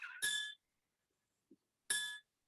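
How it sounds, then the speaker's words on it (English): Stainless steel stemware struck twice, producing two bright ringing clinks about a second and a half apart, each with a sustained metallic tone that fades quickly, plus a faint tap in between; no talking. "I am holding up stainless steel stemware."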